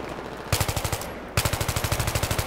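Automatic rifle fire in Battlefield multiplayer on the Grand Bazaar map, two rapid sustained bursts of evenly spaced shots, the second longer, close and loud with no talk.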